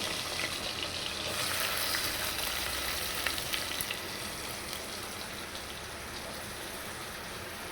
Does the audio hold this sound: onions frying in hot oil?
yes